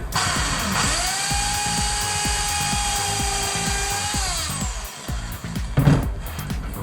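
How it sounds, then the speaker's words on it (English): A power drill whines steadily at high speed for several seconds, then winds down, followed by a brief clatter. "So here we're just going to drill in"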